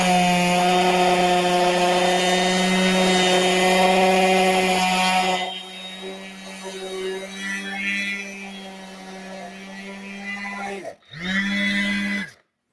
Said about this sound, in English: I'm on 120 grit sandpaper right now, and I would sand this up to 220